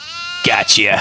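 Goat bleats in the horror video game Devour, two wavering cries in quick succession close up, following a brief spoken word at the start.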